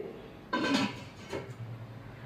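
A metal pressure cooker is set down on a gas stove with a single clattering knock, followed by a lighter metallic clink a moment later over quiet kitchen background.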